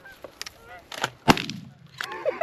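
Geese honk during a goose and duck hunt in Wisconsin, several sharp close calls in quick succession with a loud gunshot-like bang in the middle, outdoors without speech.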